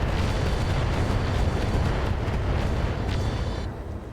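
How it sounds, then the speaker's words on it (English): Continuous heavy weapons fire and explosions in the mech combat game RogueTech, a dense rumbling barrage of booms and blasts throughout that eases slightly near the end, with no talk. "They're shooting at our Salamander here."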